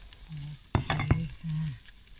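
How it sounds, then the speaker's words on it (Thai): Oil sizzles in a hot pot as food fries, a close, steady hiss broken by a few sharp clinks of a utensil stirring against the pot. "นี่น้ำมันยังฟอดฟอดฟอดฟอดนี่นะคะกำลังสุก"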